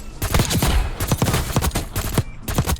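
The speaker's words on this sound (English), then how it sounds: "I saw somebody post a clip of the MP7 from the original MW3" Rapid automatic fire from the MP7 in Call of Duty: Modern Warfare 3, loud close bursts of sharp shots with short gaps between volleys.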